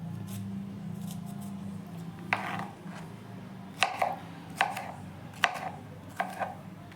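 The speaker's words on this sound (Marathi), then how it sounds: "झाली आता भेंडी कापून" Okra being chopped with a knife on a board at home, six or seven crisp separate cuts at an uneven pace over a steady low household hum.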